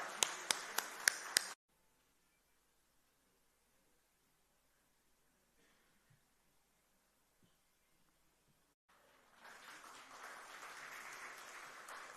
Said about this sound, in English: Let's give this wonderful man a huge round of applause, people.